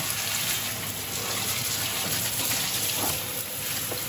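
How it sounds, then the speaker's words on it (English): Water runs at a sink as a bandsaw is rinsed off, a constant close gushing stream that holds steady for the whole stretch with no voices. "So all I have to do now is go ahead and give this a rinse."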